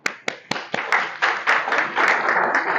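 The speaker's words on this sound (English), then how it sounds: "Give him a clap." A crowd of students applauds at a prefect induction ceremony, with a few sharp early claps building quickly into steady, dense clapping that grows fuller and louder.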